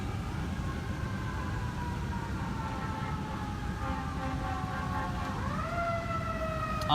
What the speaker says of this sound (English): More ambulances going.